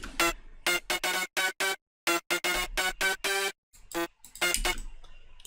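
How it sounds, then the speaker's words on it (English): Bright EDM lead synth line built in FL Studio with an effect and reverb, playing a choppy rhythmic pattern of short stabbed notes with brief gaps, loud and alone. "So now the lead sounds like this."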